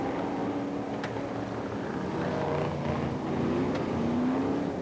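BriSCA F1 stock cars race at Coventry as a steady, dense roar of many engines, with pitches rising and falling as the cars pass. The racing noise holds throughout, heard at some distance.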